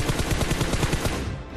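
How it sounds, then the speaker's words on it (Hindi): Rapid automatic gunfire sprayed at random into smoke in PUBG Mobile: an even, fast burst of repeated shots that cuts off near the end, loud and close. "यहाँ पे फायर हुआ, मैं रैंडम फायर दिया"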